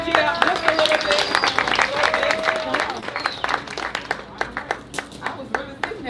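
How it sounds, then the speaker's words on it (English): Audience applause at an open mic poetry tribute night, a steady patter of clapping hands filling the room with voices talking over it throughout. "So give her a round of applause."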